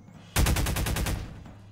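Gunfire from a weapon in the Garry's Mod video game: a sudden rapid burst of about eight loud automatic shots in quick succession, then a fading tail, with no talk.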